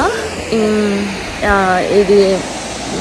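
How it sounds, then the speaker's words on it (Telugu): A waterfall keeps up a constant rushing wash behind someone talking, the water noise steady and partly masked by his voice. "ఇంకో వాటర్ ఫాల్ దగ్గరికి వచ్చినాం"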